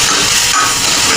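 Ground whole spice masala dropped into hot oil for tempering while cooking misal pav, giving a loud, steady, close sizzling hiss that fills the whole short moment with no talk.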